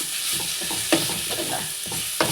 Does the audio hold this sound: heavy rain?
no